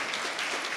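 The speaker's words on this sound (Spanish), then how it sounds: "¿Cuántos le dan un fuerte aplauso al Señor en esta noche?" Church congregation applauding during an evening worship service, a continuous, even burst of clapping heard fairly faintly, with no voices on top.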